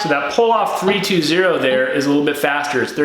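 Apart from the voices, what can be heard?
No everyday noise stands out behind the speech.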